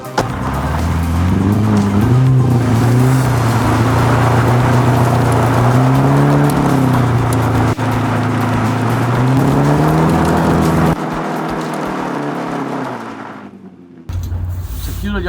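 A rally car engine drives with a loud, sustained note that rises and falls through the gears, cutting to quiet near the end before a brief return.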